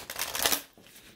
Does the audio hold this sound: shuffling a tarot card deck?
yes